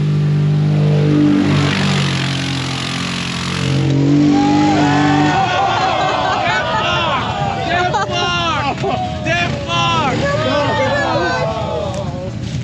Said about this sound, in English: Full speed in the Viking, that's top speed.